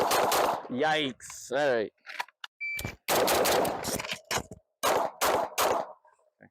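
Pistol shots at a shooting range, a handful of sharp reports spaced irregularly between bursts of nearby talk, with a short electronic beep among them.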